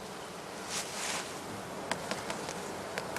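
Honey bees buzz steadily around a heather skep hive in a spring apiary, a dense continuous drone with a few louder passing flights and faint clicks.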